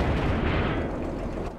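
A tank is hit by gunfire in the World of Tanks video game, a loud, booming impact with a rumbling decay that fades over about a second and a half, with no talk over it.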